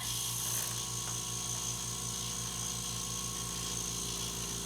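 An ultra quiet 60 decibel air compressor with a 6 gallon tank runs steadily, giving a low, even motor hum with a faint pulsing throb, close by and alone with no talking.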